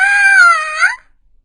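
A girl lets out a single loud, sustained shriek in a kids' story, its pitch holding then rising briefly before cutting off abruptly after about a second, followed by silence.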